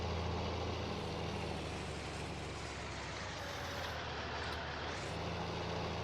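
A tractor engine in Farming Simulator 19 drones steadily and loudly for the whole stretch, a dense broadband rumble with no pauses and no voices over it.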